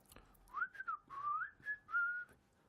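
A person whistling a short, wavering tune of several sliding notes, fairly quiet and close, with no one speaking over it.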